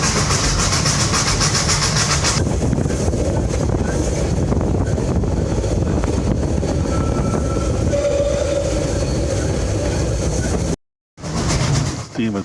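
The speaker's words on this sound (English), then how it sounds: "The steam excursion only runs 3 days a week. It is powered by crude oil." A crude-oil-fired steam excursion train climbs the mountain railway out of Skagway, Alaska, with a steady loud rumble and rolling clatter under wind buffeting, then a brief cut before the noise resumes.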